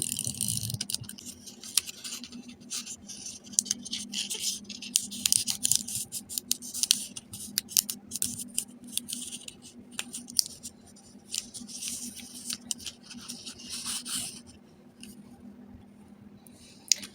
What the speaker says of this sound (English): And then I just cut a really small sliver off the bottom. Super thin sliver off the bottom of the envelope.